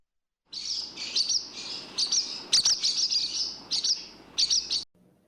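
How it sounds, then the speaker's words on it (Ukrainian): Swallow calls and twittering chirps, a fast run of high, bright notes repeating in quick bursts, close and fairly loud, with no voices. "Ластівка."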